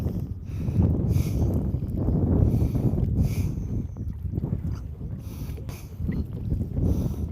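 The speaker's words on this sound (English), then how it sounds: "It makes it a little hard with all this wind." Wind gusts across a reservoir while fishing from a boat, a loud, close, buffeting roar of wind noise on the microphone that surges and eases in waves throughout, with faint splashing underneath.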